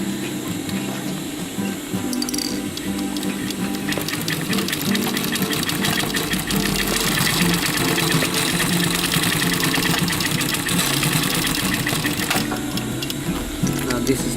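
A sewing machine stitching a rollup pouch runs steadily and close, a dense mechanical whir of rapid needle strokes and gear clatter lasting throughout, with brief shifts in speed.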